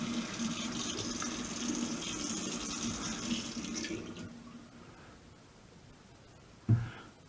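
Cold water runs steadily from a kitchen tap for about four seconds, a continuous splashing stream that then stops, followed by a quieter pause and a short knock.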